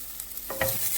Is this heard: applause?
no